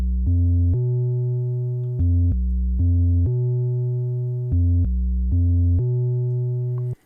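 A simple Dr. Dre-style bass line recreated in Ableton, a clean, low synth bass with few overtones, playing a loud, steady riff of held and short notes in a repeating, slightly laid-back rhythm, alone with no talk.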